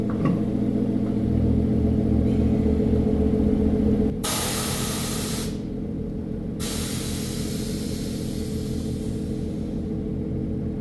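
A tuned Hyundai Avante's engine rumbles at idle, then loud bursts of pneumatic hissing break in as air vents from its air suspension, close and steady.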